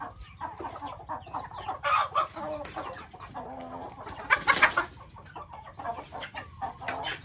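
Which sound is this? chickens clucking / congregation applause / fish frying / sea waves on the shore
chickens clucking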